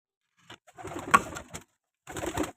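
Pigeons in a home loft coo and flutter close by as they are fed, a few short bursts of soft calls with brief pauses between them.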